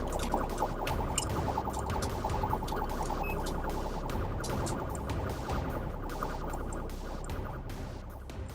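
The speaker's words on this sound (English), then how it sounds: "The moment emergency lights and sirens were activated" A police siren wails continuously during a high-speed pursuit, its loud rising-and-falling tone carried over heavy road and engine roar from the moving vehicle.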